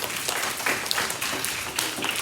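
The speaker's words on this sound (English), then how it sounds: "clap for yourselves" A roomful of second and third grade children claps for themselves at a school motivational talk, a steady busy patter of small hands filling the room, with scattered excited voices mixed in.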